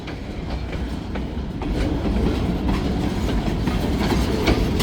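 A vintage freight train rolls past close by with a loud, continuous rumble and rhythmic wheel clatter that builds slightly as the cars go by.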